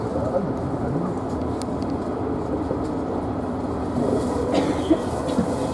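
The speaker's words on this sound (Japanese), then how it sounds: "JR 河内営和駅発車です" A JR train on the Osaka Higashi Line pulling out of a station, a steady low rumble with faint rail clatter and brief squeals, close and continuous.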